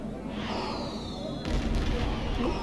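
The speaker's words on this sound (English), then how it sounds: "Fireworks." Fireworks in Star Trek Online, a rising whoosh followed by a boom and crackling bursts, moderately loud within game ambience.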